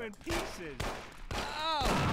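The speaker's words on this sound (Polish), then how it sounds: "Diabła, co to za strzały?" Gunfire in the video game Mafia: a few sharp bursts of shots ring out mid-range while someone talks over them.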